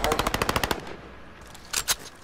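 Rapid burst of about eight loud gunshots from a sniper-style light machine gun in a shooter video game, followed by a short pause and two more close, sharp shots.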